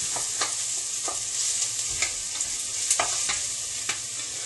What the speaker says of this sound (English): So I'm just going to saute the onions until they're translucent.